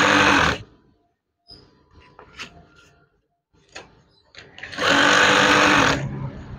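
A sewing machine stitches curtain fabric below the eyelets in two loud, steady bursts, one at the start and a longer one near the end, with quieter handling clatter and a voice between them.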